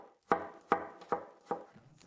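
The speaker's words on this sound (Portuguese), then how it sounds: "Corto o alho em fatias finas." Garlic being sliced thin with a knife on a cutting board, heard as four evenly spaced, crisp chopping taps, close and fairly quiet, with nothing else in the background.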